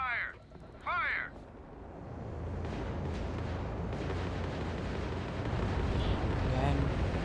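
Continuous loud gunfire and explosions from the space video game Starfield roar as a dense, sustained barrage, with brief shouted voices at the start.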